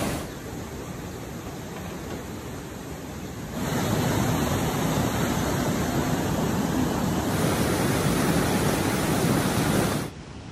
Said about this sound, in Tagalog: Sobrang lakas pa rin ng alon.